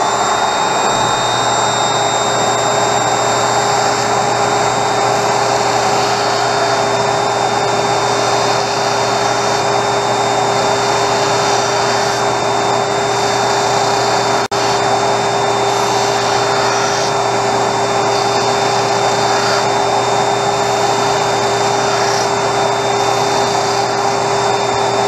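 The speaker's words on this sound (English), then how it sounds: "I'm going to turn on the vacuum so it doesn't fly all over the place" A workshop vacuum runs steadily and loudly for the full length, a constant whine with a droning hum beneath it, drawing up sawdust while lenses are fitted into Ray-Ban 4202 Andy frames; no one speaks.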